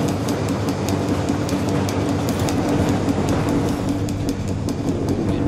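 A train rolls steadily in the Battlefield 3 video game, with a continuous low rumble and rhythmic metallic clicks over the rails throughout, with no talking.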